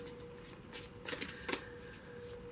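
A small tarot card deck is shuffled by hand, a few quiet crisp riffling bursts close to the microphone over a low steady hum, with no talk.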